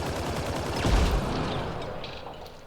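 Turret gunfire rattles in Mass Effect Andromeda: rapid, repeated shots at moderate loudness form a steady burst that swells briefly, then tapers off, with no talking.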